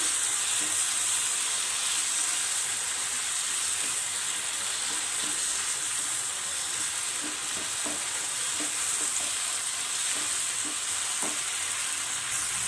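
Ginger garlic paste being stirred into sizzling tomato, onion and green chili in a pan for soya chunks manchurian; a continuous steady sizzle with soft scraping stir strokes, close and without talk.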